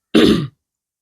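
One short, close throat clearing from someone with a cough and chest congestion: a single rough burst of about a third of a second, then silence.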